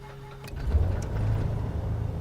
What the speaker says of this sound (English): so we're going to start off our right engine first